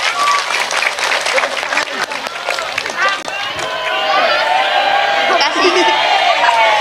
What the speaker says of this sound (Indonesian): Tepuk tangan untuk Enjang.